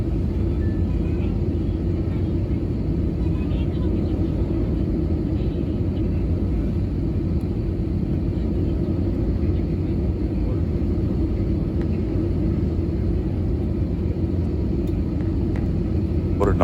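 A passenger airliner touches down at Kuala Lumpur airport after a flight from Chennai, heard from inside the cabin as a loud, continuous engine and runway rumble.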